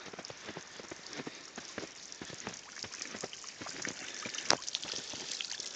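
Water trickling and dripping through snow and ice in Rome, a soft, irregular patter of close droplets that holds steady at low volume with no speech.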